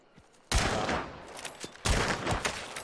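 Two loud gunshot blasts from a Winfield C FMJ rifle in a shooter video game, the first at about half a second and the second near two seconds, each followed by a trailing echo, with no talk over them.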